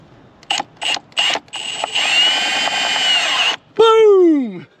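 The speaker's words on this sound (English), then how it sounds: "So we're just screwing into plastic." A power drill drives screws into plastic: three short whirring bursts, then a longer sustained run, and finally a burst that winds down in pitch, all loud and close with no talk.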